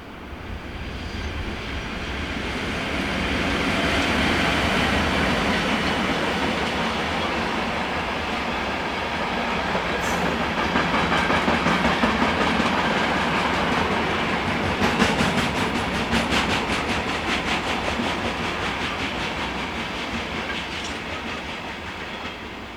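An SBB train passes near Rupperswil, Switzerland, a long steady rumble that swells and fades, with rhythmic wheel clatter growing prominent midway through.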